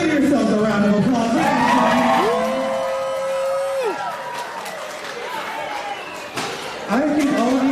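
A small group of kids cheers, whoops and shouts together after a dance routine at a fundraiser event, loud and lively, with voices rising and falling throughout.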